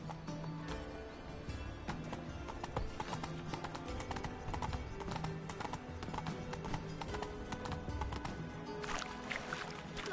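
Horse hooves in the Witcher 3 video game, a rapid rhythmic clip-clop of a galloping horse running steadily throughout, with a faint background game soundscape and no talking.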